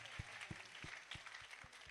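A church congregation at a children's Christmas celebration applauds together, broad clapping running throughout with regular low thuds beating underneath, fairly quiet overall.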